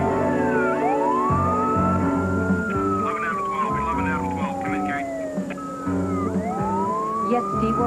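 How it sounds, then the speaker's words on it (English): Electronic tracking signal from a homing device, a rising and falling siren-like whoop that repeats in sweeping tones, fairly loud and steady, with faint voices underneath. "The closer we get, the louder the signal will get."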